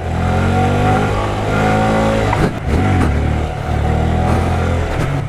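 A Honda Grom motorcycle's engine revs hard and loud during a second gear wheelie, holding a high buzzing drone with a couple of short dips in throttle, close to the listener.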